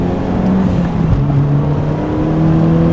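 A tuned Mitsubishi EVO with intake, exhaust and charge-piping upgrades drives a warm-up lap. Its steady engine drone and whir run close and loud throughout, with a brief dip in pitch midway, and no one speaks.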